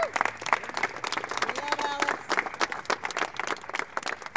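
An audience at a California legislators' gathering applauds with a steady patter of many hands, moderately close, while a voice briefly rises within the clapping.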